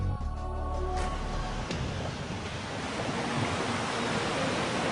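Sea waves wash onto the Mediterranean shore at Tarragona in a dense, steady hiss of surf, loud and continuous after a brief low rumble at the start.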